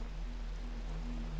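Steady rain from The Talos Principle video game, a soft continuous patter of drops on surfaces, even and moderately loud with no voices.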